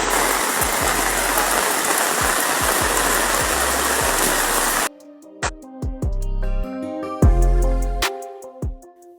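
Floodwater from the overflowing Krueng Pouto river in Aceh Utara, swollen by heavy rain, rushes with a loud, steady roar for about five seconds before an abrupt cut to unrelated knocking and tonal sounds.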